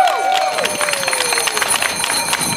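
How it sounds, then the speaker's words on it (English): Crowd at a Uniondale rally in Mineola cheers and claps loudly, with dense applause and whoops over a fading whistle-like tone, continuous across the clip. "Give yourself a round of applause"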